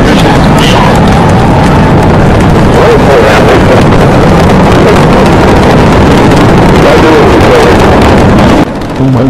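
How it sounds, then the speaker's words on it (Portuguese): Space Shuttle Discovery lifting off on a rocket launch, a loud, sustained roaring rumble that fills the whole stretch, with a broadband crackle and wind-like buffeting, cutting out abruptly at the end. "boost ignition, and liftoff of the Space Shuttle Discovery"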